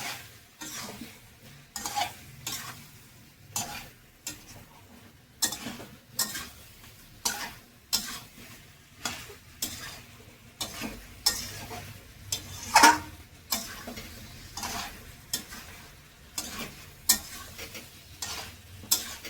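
Cauliflower cooked with yogurt in a pan, stirred with a spoon: a long run of regular scraping and clinking strokes against the pan over a low simmering sizzle, close and moderately loud, with no talking.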